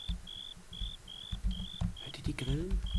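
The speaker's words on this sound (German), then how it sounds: "Hört ihr die Grillen?" Crickets chirping in the Minecraft video game, a steady series of short, evenly spaced high chirps repeating through the clip, heard beneath someone talking and low thumping game sounds.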